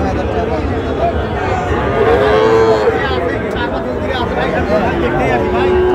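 A busy cattle market where young bulls and calves are being bought and sold, with loud nearby mooing rising over a constant babble of crowd chatter and people talking.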